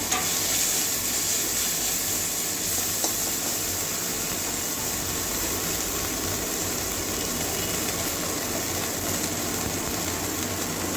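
Chopped ginger and spices fry in hot oil in a pan, giving a continuous, even sizzle at moderate level with no talking over it.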